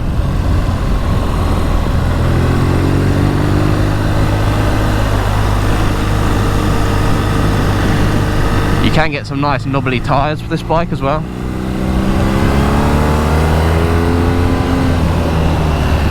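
A BMW R NineT Scrambler's boxer engine drones loudly and steadily while riding, with a brief dip around the middle, under someone talking throughout.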